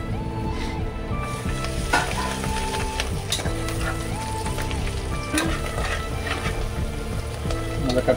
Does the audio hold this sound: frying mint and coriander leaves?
yes